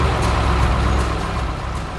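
A cartoon truck cruises down a desert road, its steady mid-pitched engine drone rolling on continuously and fairly loud with no break.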